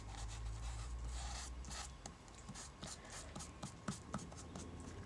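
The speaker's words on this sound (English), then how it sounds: "I'm going to coat the entire circle with the pen." A Zig two-way chisel tip glue pen is rubbed over a paper circle, giving soft, close scratchy strokes in an uneven rhythm, faint and alone with no talking.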